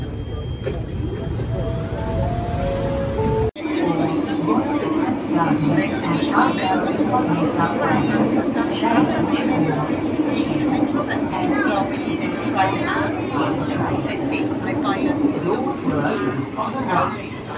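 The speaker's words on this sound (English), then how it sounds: "Here's our train to our next stop, Martin Place." A Sydney Metro train running between stations, its steady low rumble and hum continuous throughout after a sharp change in sound partway in, with people talking over it.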